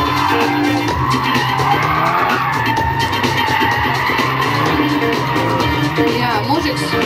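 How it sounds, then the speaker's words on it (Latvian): Race cars drive in tandem in a drift competition, engines roaring hard and tires squealing and skidding continuously at close range, a loud unbroken wall of motor and rubber noise. "Pahomos brauc labāk tagad tandēma braucieni nekā viens pats brauc"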